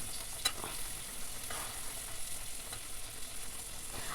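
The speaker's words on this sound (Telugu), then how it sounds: "అవి కూడా కొద్దిసేపు వేగాల" Annapakala curry (a Telugu vegetable dish) frying in a pan with soaked seeds stirred in, giving a steady low hiss with occasional scraping stir strokes, fairly quiet and continuous.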